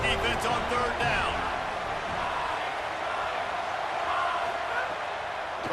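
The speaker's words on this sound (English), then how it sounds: "Decibels rising as the crowd gets behind this defense on third down." Stadium crowd in College Football 27 roaring behind the defense on third down, a dense, sustained wall of cheering with brief bursts, beneath a commentator's voice.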